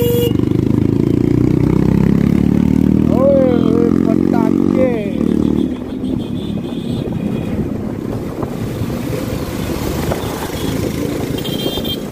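Kawasaki ZX-10R sport motorcycle engine revs up in rising surges, loud and close over steady wind rush, then settles to a rougher, lower drone while voices speak.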